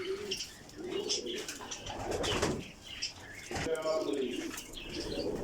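Golden pigeons in a dim loft shed coo in low, throaty phrases and flap their wings in bursts, close by, while someone talks over them.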